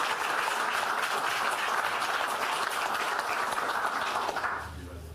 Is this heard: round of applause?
yes